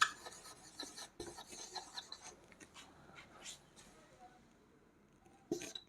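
Element names being written on a board by hand, heard as faint scratchy strokes and taps in short uneven bursts. The writing is quiet and close, with no talking in between strokes.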